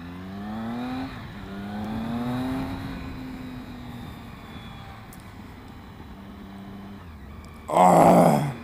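Engine and wind noise from a motorcycle ridden without its luggage bag, a steady drone with rising and falling engine pitch as it accelerates, ending in a short loud gust of wind buffeting.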